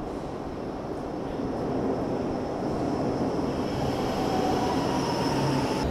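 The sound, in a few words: Milan metro train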